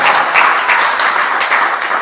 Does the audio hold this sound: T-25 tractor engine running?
no